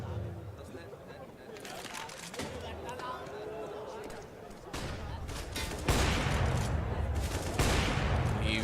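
Bursts of rifle and submachine-gun fire ring out in a CS:GO match on the Cache map, with spraying volleys and single shots that grow louder toward the end. A caster talks over the gunfire the whole time.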